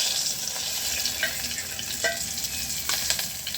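Food fries in hot oil in a pan over a wood-fired stove, giving a strong continuous sizzle with a few stirring scrapes and light clinks. No talking is heard.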